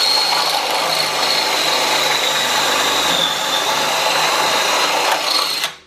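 A power drill bores pocket holes into wood through a Kreg jig, giving a loud, continuous high-pitched whine that runs steadily for several seconds before cutting off abruptly.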